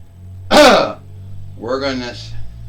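A sharp, close cough bursts out, then after a brief pause comes a rougher throat-clearing cough, both loud and unaccompanied by speech.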